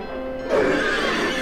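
A living carousel horse in the video game Silent Hill 3 lets out a loud, drawn-out whinny that bursts in after a half-second of low ambience and rings on to the end.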